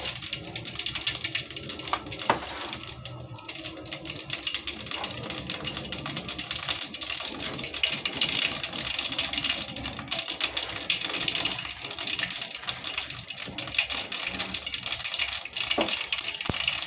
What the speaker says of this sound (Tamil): கடாய் சூடாயிடுச்சு கடுகு உளுத்தம் பருப்பு போட்டுக்கிறேன்